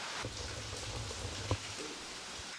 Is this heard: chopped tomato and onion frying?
no